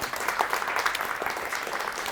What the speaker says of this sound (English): Let's give a round of applause to Neil.